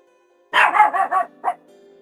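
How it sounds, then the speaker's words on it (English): A small long-haired dog barks at birds in a quick close burst of four sharp yappy barks, then gives one more bark after a short pause, against otherwise quiet surroundings. "She's barking at birds."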